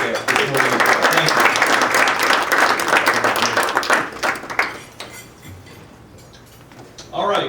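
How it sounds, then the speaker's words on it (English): Applause from an audience for the service staff at a student leadership event, a dense wash of clapping lasting about five seconds and then fading out, with a voice briefly starting again at the end. "A round of applause for our service staff."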